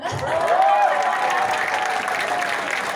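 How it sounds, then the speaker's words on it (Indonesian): An audience at a talk about Moonbot breaks into applause: a full, steady wash of many hands clapping for the whole stretch, with a brief voice rising above it near the start. "Oke, mari tepuk tangan"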